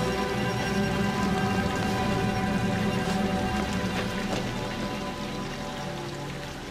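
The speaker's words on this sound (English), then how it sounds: "It's still raining." Rain falls in the horror video game Outlast as a dense, steady wash of drops and patter with faint tonal ambience underneath, gradually easing slightly toward the end.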